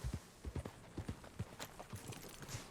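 Horse hooves clip-clopping at a walk in Red Dead Redemption 2, a soft, uneven run of hoof falls, fairly quiet and close, with no talk over them.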